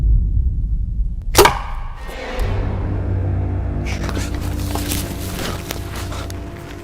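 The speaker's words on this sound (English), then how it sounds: "an arrow cuts through the night sky, thudding into the forest nearby" An arrow whooshes past and thuds sharply into a dark forest at night, followed by low rumbling and scattered rustling movement in the background.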